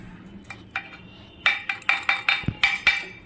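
Olives are tossed with sugar and salt in a bowl for a sweet, sour and spicy pickle, giving a quick series of close clinks and scrapes against the bowl, about eight crisp hits in a row.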